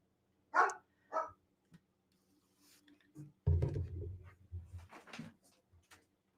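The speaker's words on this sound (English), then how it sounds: "It's my dog mouthing off." A dog barks several times indoors, with a few sharp separate barks early on followed by a louder, busier burst of barking and shuffling noise near the microphone.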